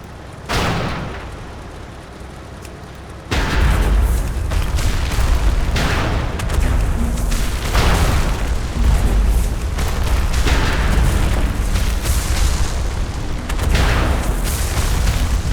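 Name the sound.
cannons firing in World of Warcraft Dragonflight video game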